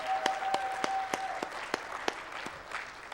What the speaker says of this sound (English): let's just have a round of applause for Chloe and the entire BlogPaws team.